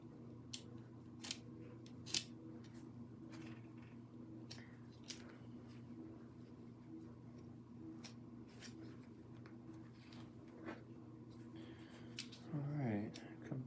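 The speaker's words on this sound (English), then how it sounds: "I'm cutting through my stitches." Scissors snipping through the stitches of a bobcat fur hand warmer, with quiet, crisp clicks scattered irregularly over a low steady background hum.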